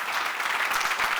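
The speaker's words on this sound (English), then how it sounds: "Give her a warm hand of applause." Conference audience applauding at a business event, a steady, dense patter of many hands clapping at moderate distance through a brief burst.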